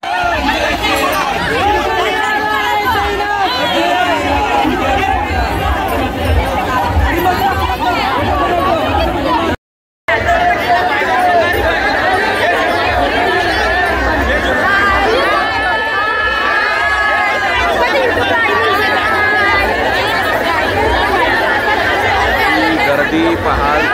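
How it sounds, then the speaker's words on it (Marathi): A dense festival crowd chatters loudly throughout at a Ram Navami celebration in Arnala Koliwada, many voices overlapping in continuous babble, broken once by a brief cut to silence. "गर्दी पहाल"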